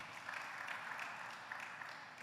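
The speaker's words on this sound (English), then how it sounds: "give them a round of applause, please" A quiet, distant round of applause from the audience at a pre-budget consultation meeting in Tunapuna, with a soft, steady clatter of many hands clapping for a couple of seconds.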